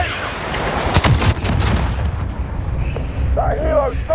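Incoming missiles strike in a Modern Warfare campaign mission, a loud cluster of sharp blasts and rumbling booms near the start that fades into a quieter tail, with a voice shouting radio-style over the action.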